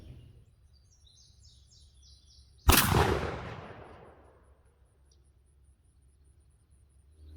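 A single loud shotgun blast from a Remington 11-87 firing a Salt Creek 3-inch 2 oz lead #6 shell outdoors, with a long echoing decay, faint birdsong around it.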